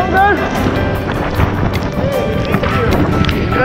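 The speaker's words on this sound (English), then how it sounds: "That's a strong wind!" Strong wind blasting across a steep, rocky Patagonia mountain trail in Torres del Paine, a loud continuous roar buffeting the microphone, with a voice speaking briefly.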